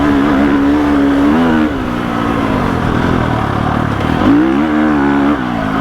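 A 2021 GasGas EX 350F four-stroke dirt bike is ridden fast, its engine loud and close throughout, holding high revs with shifts and brief dips in pitch before pulling hard again.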